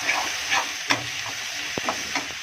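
Goat brain fry with chili, ginger and garlic paste being stirred in a hot pan; a steady sizzle and hiss with a few sharp scrapes and taps of the spoon against the pan, close up, with no voices.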